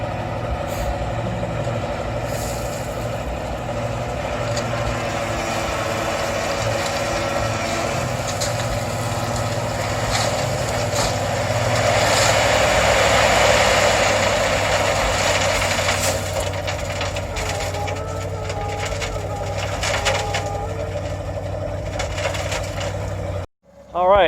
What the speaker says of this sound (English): I hear the dump truck man is here now.